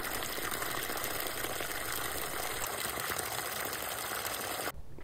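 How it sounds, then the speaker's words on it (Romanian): Water pours steadily into a bucket packed two-thirds full of nettles, a continuous gushing splash close by that runs for several seconds and then cuts off abruptly near the end. "După ce am umplut 2/3 din găleată cu urzici, turnăm apă peste ele până aproape să umplem găleata."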